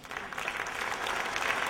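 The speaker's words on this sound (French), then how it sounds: "on vous applaudit" An audience at an economics conference gives a brief, dense round of applause. The clapping is steady and close throughout, with no one speaking.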